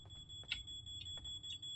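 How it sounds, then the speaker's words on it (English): A smoke alarm goes off in a paranormal horror video game, thin high-pitched electronic beeps repeating at a steady rhythm over a low background hum, fairly quiet. "There's an alarm going off."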